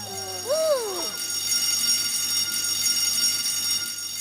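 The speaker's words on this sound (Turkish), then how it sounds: "Evet çocuklar, bu bir yangın alarmı." An electronic fire alarm opens with a rising and falling wail, then settles into a steady, ringing tone that continues over a low background hum.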